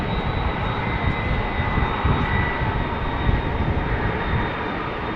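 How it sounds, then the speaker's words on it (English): A steady, loud roar of a Delta A330 airliner's jet engines at Amsterdam Schiphol Airport runs without a break, with a faint high whine riding over the dense rumble. "Now, Delta A330 on the move. Those engines we can always hear over all the other stuff."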